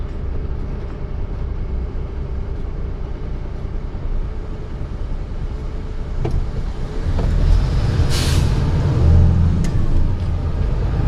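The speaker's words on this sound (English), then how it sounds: "Let this bus go because he's in that junction that I need." A bus passes at a road junction, heard from inside a truck cab. A steady, loud engine and road rumble swells in its second half.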